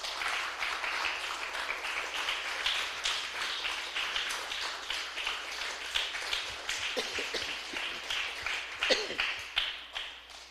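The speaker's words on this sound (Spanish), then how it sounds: "Denle un aplauso fuerte al Señor, aleluya" A church congregation claps and applauds in a broad, steady wash of many hands that lasts the whole stretch, with scattered louder individual claps near the end.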